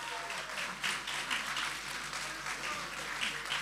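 An audience applauds a music group in a hall, a dense patter of many hands clapping steadily at moderate volume throughout.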